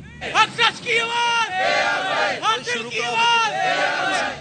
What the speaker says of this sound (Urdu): ARY نیوز کی جبری بندش کے خلاف بھرپور نعرے بازی کی